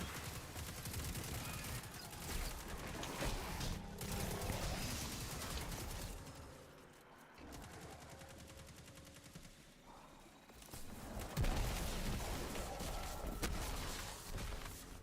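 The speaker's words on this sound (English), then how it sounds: "But I think in this case he was just firing." Enemy gunfire in Destiny 2, sustained rapid automatic shooting mixed with game effects, fairly loud and continuous with a brief lull near the middle, no talk.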